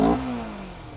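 A CFMoto NK400 motorcycle engine catches with a short burst at the start, then settles into a steady falling idle hum, close and moderately loud.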